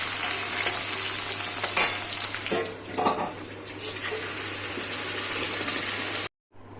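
Cumin seeds, bay leaf and onion frying in hot oil for a tempering make a steady bright sizzle with occasional stirring clinks and scrapes, then cut off abruptly at the end.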